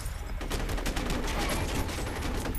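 Rapid bursts of automatic gunfire in the shooter game F.E.A.R., dense and continuous, close and fairly loud throughout.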